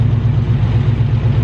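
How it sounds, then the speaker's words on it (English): A car engine idles steadily with a low, even rumble that stays loud and continuous throughout, with no talking over it. "I really hope you can hear my engine"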